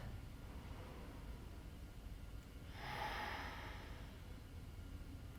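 One slow, airy breath during a yoga rest, lying down with hands on the belly, rises softly about midway through an otherwise quiet, hissy stillness.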